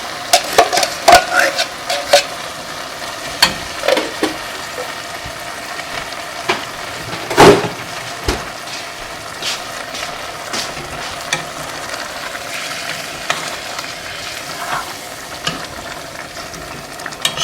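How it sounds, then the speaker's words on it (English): Tomato puree for homemade chili being stirred in a pot, with scraping strokes and clinks over a soft sizzle, a louder knock near the middle, and steady stirring throughout. "Stir it well."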